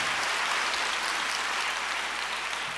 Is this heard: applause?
yes